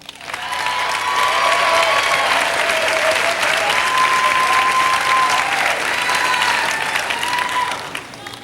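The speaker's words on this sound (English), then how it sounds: "Give a big round of applause to Candace Head" A large crowd claps for pageant finalist Candace Head in a full, sustained round of applause of about eight seconds, dotted with whistles and scattered cheers, tapering off at the close.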